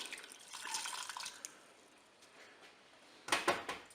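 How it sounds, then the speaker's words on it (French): About half a litre of water poured over pork loin in a Cookeo multicooker: a faint, steady splashing pour that trails off, then a brighter burst of running water near the end. "Ensuite, je vais couvrir d'eau. Là, vous avez à peu près 500 ml d'eau."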